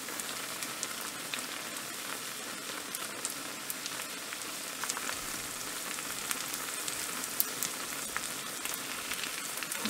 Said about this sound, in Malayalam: ഇനി ഇതും നന്നായി ഫ്രൈ ചെയ്ത് വന്നിട്ടുണ്ടെങ്കിൽ നമുക്ക് എടുത്ത് മാറ്റാം